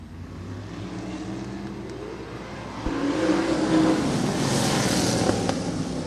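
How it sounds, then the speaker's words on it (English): Seven 800-horsepower Hoosier Outlaw Sprint Series sprint cars roar around the track, a distant engine drone that swells louder midway as the pack draws nearer and keeps howling. "7 cars, 8 laps, 800 horsepower apiece. Here comes the Hoosier Outlaw Sprint"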